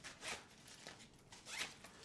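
A compression zipper on a fabric packing cube is pulled open in a few quick, quiet raspy strokes, heard close up with no talking.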